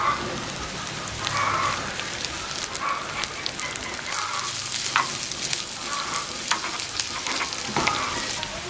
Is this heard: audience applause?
no